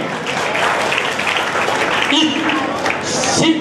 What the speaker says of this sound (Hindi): एक बार जोरदार तालियों से इनका स्वागत करें।